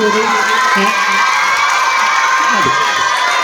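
Crowd of schoolchildren at a school event shouting and cheering, a loud continuous roar of young voices with no distinct claps standing out.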